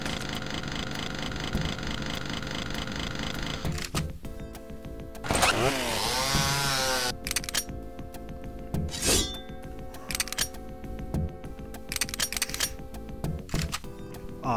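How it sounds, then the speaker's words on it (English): A chainsaw revs and grinds in the video game Brutal Doom: Project Brutality, a buzzing whine amid harsh game noise and music, loud and alone without voices. "Ah, Chainsaw!"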